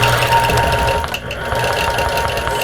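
Sewing machine stitching a quilted cactus basket wall hanging with a stitch-in-the-ditch guide, a steady fast mechanical whir with a brief dip midway, running continuously at close range.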